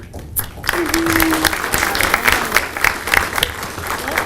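Steady audience applause for students at a high school student government day event, a dense continuous wash of many hands clapping that swells and holds throughout, with a brief cheer near the start.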